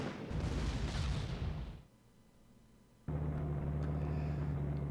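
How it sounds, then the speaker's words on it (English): An anti-tank cannon fires in the Panzer Corps strategy game with a loud, booming blast and rumble that fades into a brief quiet, then a heavy, sustained roar cuts back in. "That's an anti-tank cannon."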